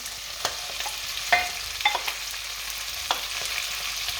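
Onions and red peppers sizzle in a curry pan, a steady close hiss with occasional sharp clicks and stirring scrapes, no voices.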